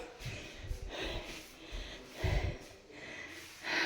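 Someone breathes heavily and rhythmically at close range, out of breath after climbing stairs in a house in Japan, with no talking.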